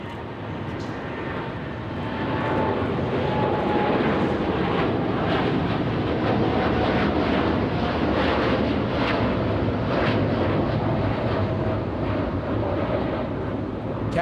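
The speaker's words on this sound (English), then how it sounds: "look at this Dreamliner 787 heading to Hong Kong" Boeing 787 Dreamliner jet at Los Angeles airport, a continuous loud engine rumble that swells after a couple of seconds and holds steady, with wind buffeting the microphone and no talk.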